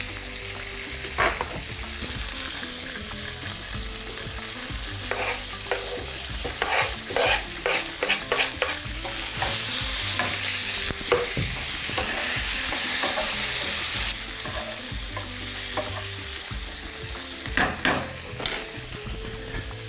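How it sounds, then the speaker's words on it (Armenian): Chopped broccoli fries with pepper and garlic in a hot pan, a steady sizzle running throughout while a utensil stirs and scrapes in clustered bursts of clinking strokes. "Բրոկոլին մանրացնենք և տապակենք պղպեղի սխտորի հետ"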